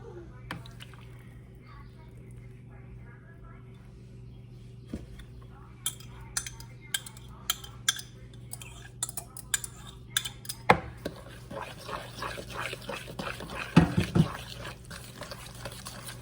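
Sugar and melted butter mixed in a bowl for banana bread, a utensil scraping and clinking steadily against the bowl with wet, squishy stirring that builds toward the end, close by.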